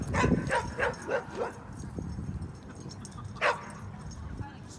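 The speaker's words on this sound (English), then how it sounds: "Somebody doesn't like the big dog." Dogs at a dog park, a Great Dane and a small German Shepherd, give several quick barks and yips early on, then one more bark later, with someone talking over the play.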